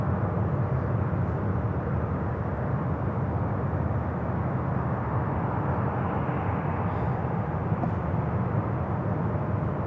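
An Allegiant Boeing 737 MAX 8 jet at Louisville airport, arriving from Orlando, gives a steady, broad engine roar that holds loud and constant throughout without a break.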